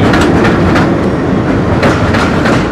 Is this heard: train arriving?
yes